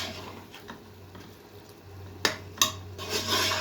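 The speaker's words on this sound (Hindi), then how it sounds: "तो अब हम इसको डिश आउट कर लेते हैं।" Gajar gosht, a carrot and meat curry, being served out of a cooking pot, with soft scraping and two sharp metallic clinks of a spoon against the pot over a low steady hum.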